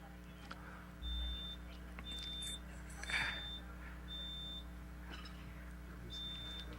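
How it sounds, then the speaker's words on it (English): Loud low-battery beeping from a broadcast station's equipment: five evenly spaced electronic beeps, each about half a second long, sound over a low hum, with faint background noise between them. "I'm sorry for that, the loud beeping, but you can understand that the batteries have all gone."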